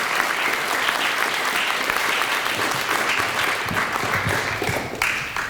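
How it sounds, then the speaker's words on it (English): Audience applause at a school ceremony, a dense, steady roar of many hands clapping in a hall, sustained throughout with faint crowd murmur. "let's give a round of applause for our student government president, Michaela, our MC."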